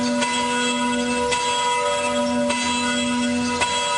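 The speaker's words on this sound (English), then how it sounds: "Play the bells" Church-style bells ring out on a talk radio broadcast, with sustained tonal chimes and several fresh strikes roughly a second apart, steady and clear with no voices over them.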